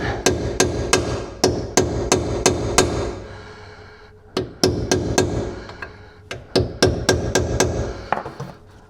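Hammering on a chisel against ball joint rivets of a 2018 Chevrolet, sharp metallic strikes in quick regular runs of blows, a short pause, then further uneven bursts of hits, close and loud with no talk.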